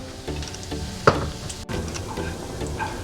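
Oil for South Indian Bellari roast beef sizzles and spatters in a pan up close, with a sharp metallic clank of a utensil midway and a brief scrape, no voices.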